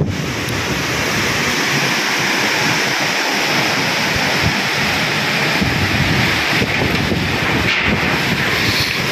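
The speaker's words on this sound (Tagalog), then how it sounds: "malakas ang hangin." Strong wind roars continuously against the microphone, a dense, unbroken rushing noise with no voices.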